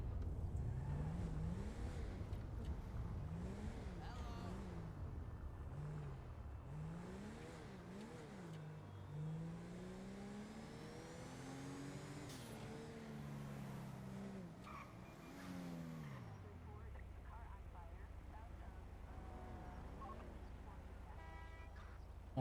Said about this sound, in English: go ahead and hop in our car, and let's go do a traffic stop